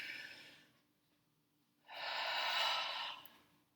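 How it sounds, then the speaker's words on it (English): Two breaths, one trailing off at the start, then a clear slow breath about a second long, close and soft with nothing else around. "Breathe in and out."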